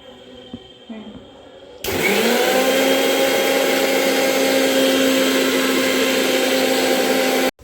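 An electric mixer grinder blending mint leaves and fennel with water, starting abruptly with a loud steady whirring drone that holds unchanged for several seconds before cutting off, after some quiet clatter and a voice beforehand.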